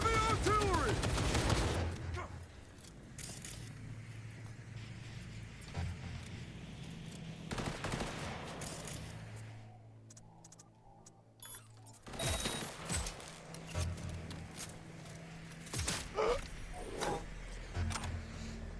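Heavy artillery gunfire in Cyberpunk 2077: Phantom Liberty: loud dense bursts of shots and blasts at the start and again later, over a low engine-like hum and game sounds, with a quieter stretch in the middle.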